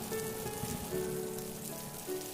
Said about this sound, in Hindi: तभी बारिश और बढ़ जाती है